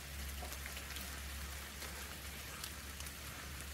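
Steady rain pours onto a backyard aviary strung with leaf-laden netting, a dense, even hiss dotted with close individual drips and patters, continuing without pause and with no voices.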